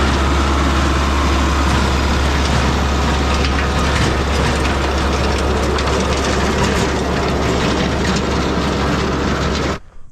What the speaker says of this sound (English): that tiller cuts it up nice